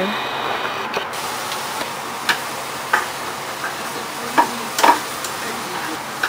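Cabbage with small shrimp is stir-fried in a pan: a soft, steady sizzle broken by scattered sharp clicks and taps of the utensil against the pan, heard close by.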